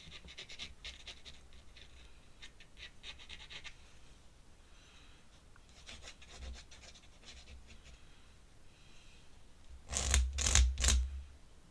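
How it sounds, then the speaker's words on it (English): Ink pen nib scratching across paper while drawing, a soft dry rasping in short bursts, faint and close, with a louder cluster of quick scratches near the end. "I absolutely love hearing ink carving away at the paper."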